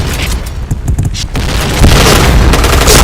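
A grenade blast in a shooting video game, a loud booming explosion with rolling rumble after a burst of scattered gunfire.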